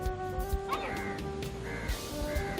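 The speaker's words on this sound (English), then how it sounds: "the crow was hiding on a coconut tree when it was rescued by Shalan" A snow-white albino crow, rescued from a coconut tree in a coastal village near Cochin, gives several harsh caws over steady background ambience, with a few separate calls spread across the moment.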